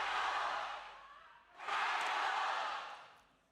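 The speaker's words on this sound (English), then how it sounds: "what a crazy crowd pop there" Loud crowd roar from an esports audience at an Overwatch Champions Clash match, a broad sustained swell that dips briefly midway and then surges again, no speech over it.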